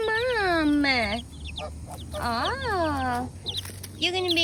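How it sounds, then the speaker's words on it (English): Baby Frizzle chicks chirp and peep in rising and falling calls close by, several bursts over a few seconds with a steady low hum beneath. "Look, we got some little baby Frizzles."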